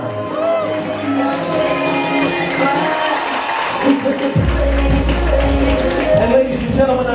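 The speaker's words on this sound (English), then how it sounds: "nice round of applause for Cheyenne and Michael" Wedding reception guests cheer, whoop and shout as a couple is introduced, a loud lively crowd noise with music thumping in underneath partway through.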